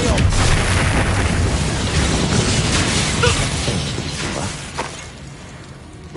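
Expelliarmus disarming spell cast in Hogwarts Legacy, a dense, sustained burst of booming, crackling magic noise across the whole stretch, easing off near the end with a final sharp pop.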